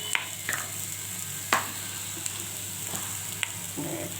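Chili and cumin powder fry in a pan, a steady sizzle broken by a few sharp stirring scrapes and clicks, close and without talk.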